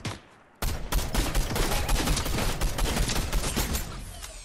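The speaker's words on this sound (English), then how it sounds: "Oh, he shot me." Rapid bursts of gunfire from a Fortnite Zero Build squads match, starting after a brief quiet moment and continuing as dense, loud overlapping shots and fusillades for several seconds before tapering slightly.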